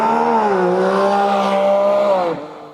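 Porsche 718 Cayman GT4 RS with its combustion flat-six pulling away, a loud, close engine note rising steadily through the revs before easing off near the end.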